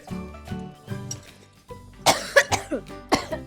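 Several sharp coughs burst out in quick succession, close and loud, after a few quieter voiced sounds, set off by eating spicy Shin Ramyun noodles.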